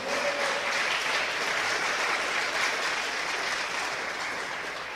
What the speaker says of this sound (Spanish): Dale una ofrenda de aplauso al Señor.